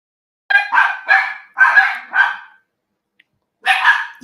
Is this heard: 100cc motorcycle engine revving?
no